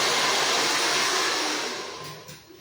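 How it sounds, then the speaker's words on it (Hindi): A hair dryer blows loud and steady in a beauty salon, its broad airy roar holding strong before easing off slightly near the end, with no voices over it. "ड्रायर मारो, ड्रायर मारो"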